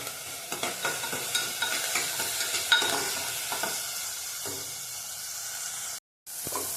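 Onion and tomato frying in oil with salt for Maharashtrian stuffed brinjal masala, a close sizzle broken by regular stirring scrapes and taps, briefly cutting out near the end.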